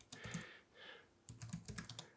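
Keys clatter in two quick bursts of typing on a computer keyboard, close and fairly quiet, separated by a short pause.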